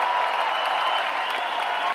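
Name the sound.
rally crowd applauding a WWII navy veteran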